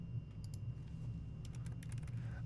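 Quiet typing on a computer keyboard during a live hacking stream, a few quick bursts of soft key clicks in irregular clusters over a low steady hum, with no talk.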